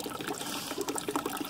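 Water running through a gold recovery sluice over its ribs, a close, bubbling trickle with small splashes, brief and moderately loud.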